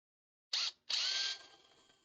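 A power drill fires in two short bursts, a quick blip and then a longer whir that winds down and fades, with debris getting stuck in the drill bit.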